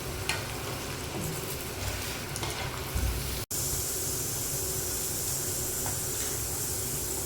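Fries bubble and sizzle in hot oil, a steady dense crackling hiss close by throughout with a brief stirring clatter, no voices.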